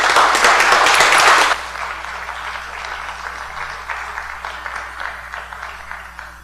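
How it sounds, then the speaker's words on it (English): Audience applause at a city council meeting for the city engineer during Engineers Week, a loud burst of clapping for about a second and a half that drops to a softer, scattered patter. "let's give him a round of applause"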